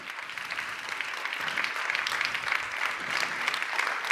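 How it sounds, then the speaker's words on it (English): An audience at a consumer forum in Portugal claps in a steady, even wash of many hands, moderately loud and sustained for several seconds with no talk over it. "Please, a big applause to Patricia."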